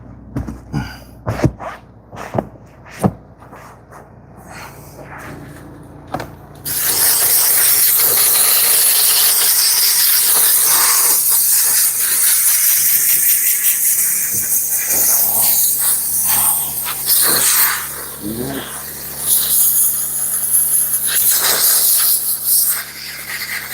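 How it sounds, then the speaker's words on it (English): A steam cleaner hisses loudly and continuously while cleaning car seats, a harsh sustained jet that starts abruptly after several seconds of sparse clicks and knocks, with slight shifts as the nozzle moves. "You wanna try and steam everywhere you can."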